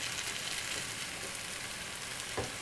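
Agnolotti sizzle steadily in a hot pan and are stirred around, a constant close frying hiss with a brief scrape of the stirring.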